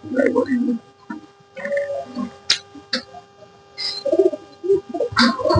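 Pigeons in a loft, some of them nesting on eggs, make soft repeated coos and low throaty calls at close range. The calls come in bursts separated by brief pauses, with a few sharp clicks or taps among them.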